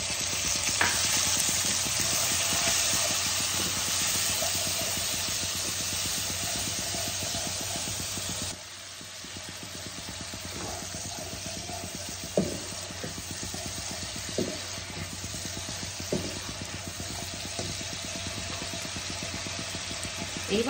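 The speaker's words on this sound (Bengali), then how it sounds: "এবার আমি মশলাটাকে অল্প জল দিয়ে কষিয়ে নেব।" Spice paste with red chili powder for a Boroli fish jhal sizzles and hisses in a pan as water is added, a loud continuous fry that settles lower, with scattered stirring scrapes.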